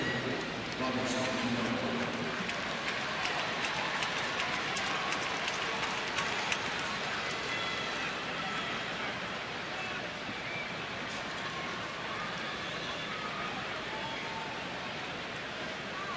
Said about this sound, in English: There's the rain coming down.